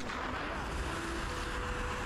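Loud, continuous weapon fire from the video game Crysis on a beach patrol mission, a dense sustained roar with low booming thumps and no speech.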